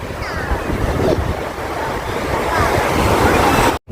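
Ocean waves at Chennai Marina Beach, a loud, continuous surf roar with heavy wind buffeting the microphone, ending in a brief dropout.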